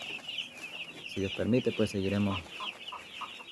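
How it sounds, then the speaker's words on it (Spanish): Five-day-old baby chicks peep in a steady, high chorus throughout, with a person speaking briefly over them partway through. "Ahí están los pollitos, los quería mostrar en esta hermosa tarde."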